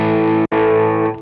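A sustained, heavily driven electric guitar chord rings out loud and clear through a Vox amp, cut briefly by a short gap before the chord sounds again.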